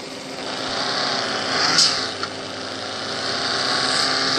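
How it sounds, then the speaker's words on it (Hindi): Engine and exhaust of a car in a racing video game, a steady droning hum that holds even and loud throughout, with a brief swell near the middle and no talking. "बाकी जो एग्जॉस्ट साउंड है वो ठीक ही है"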